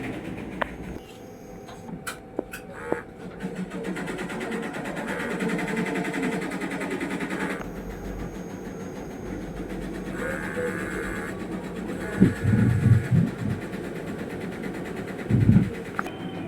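A sublimation printer runs a nozzle test, its print head carriage whirring and clicking in a steady mechanical drone with a few sharp knocks, moderately close, with no talk.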